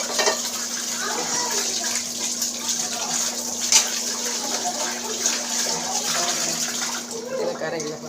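A non-stick pan being rinsed under running water in a kitchen, a steady close splashing stream with brief clatters, spoken voice faintly in the background.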